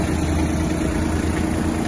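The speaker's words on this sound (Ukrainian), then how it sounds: "Трактор їде, фреза працює" A Kubota GT-21 Japanese mini tractor engine runs steadily with a rough, rumbling drone and the churning vibration of its tiller working while the tractor moves, continuous and close.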